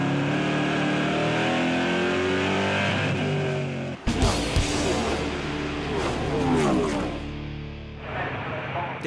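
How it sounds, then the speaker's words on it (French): Euro NASCAR race cars at Brands Hatch roar past with loud, droning engines whose pitch climbs as they accelerate, and a sharp burst of engine noise cuts in midway, all under a commentator's continuous talk. "Frédéric Gabillon tente tout pour revenir et se défait de Jan Zimmer à l'intérieur du virage numéro 3."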